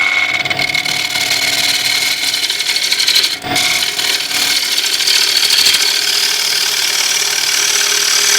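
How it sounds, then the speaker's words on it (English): A woodturning gouge makes a continuous shear cut on a spinning lathe piece, giving a close, steady hissing scrape over the lathe's hum, with a short break midway before the cut resumes. "I'm going to shear cut all of this away."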